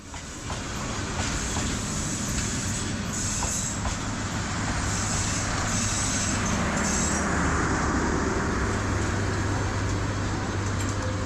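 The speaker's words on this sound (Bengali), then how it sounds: "তো এটি হলো বুড়িমারা এক্সপ্রেস যা বাংলাদেশ রেলওয়ে পরিচালিত একটি আন্তনগর ট্রেন" The Burimari Express, a Bangladesh Railway intercity train from Dhaka to Lalmonirhat, rumbles loudly and steadily at Ishwardi railway station, with continuous wheel and carriage noise and faint squeals close by.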